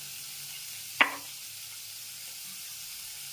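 Prawns fry in a pan with a faint, steady sizzling hiss, broken once by a single sharp clack of a spatula against the pan.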